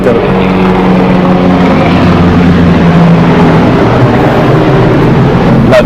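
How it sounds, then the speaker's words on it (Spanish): The CICEN helicopter roars close overhead in a loud, continuous rotor and engine drone that fills the whole stretch without letting up. "Es el helicóptero del CICEN."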